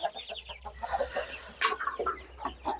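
Native country chickens on a farm, hens giving close, repeated clucks and short squawks in quick irregular bursts, with other birds chattering faintly behind.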